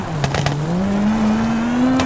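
A rally car in WRC 2 on PC throws a handbrake turn through a hairpin on Rally Argentina, its engine droning and climbing steadily in pitch as it slides, loud and close.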